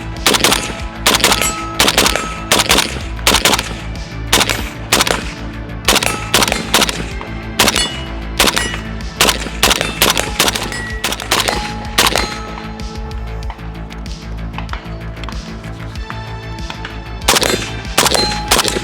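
Rapid strings of gunfire from a PSA 5.56 short-barrel AK-pattern rifle with an 8-inch barrel, loud sharp cracks in quick irregular bursts and pauses at an outdoor range, with no talk.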